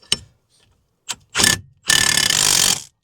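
Ratchet with a wobbly socket tightening wheel bearing bolts on a 2004 Chevy Impala: a couple of short clicks, then a burst of rapid ratcheting and a longer sustained run of clicking, close and loud.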